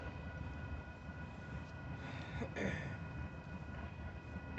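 An Amtrak passenger train on the main line gives a steady, broad rumble at a distance that swells slightly midway, with no voices.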